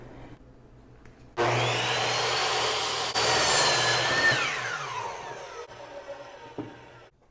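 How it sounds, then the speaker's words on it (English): A saw, a handsaw or a bandsaw, cuts through wood. A motor-like drone starts abruptly and holds loud and steady for several seconds, then fades with a rough rasp. "You can use a handsaw for this, or you can use a bandsaw, whatever you want."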